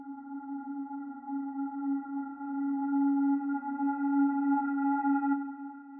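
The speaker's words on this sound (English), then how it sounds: "I came into Omnisphere and I found this guitar lead preset which I made myself." A self-made guitar lead preset from Omnisphere plays a sustained synth melody line in a beat, steady and fairly loud, with no voice present.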